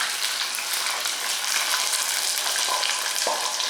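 Battered vegetable tempura mushrooms fry in hot oil, a dense steady sizzle and crackle that stays loud and even throughout with no voices.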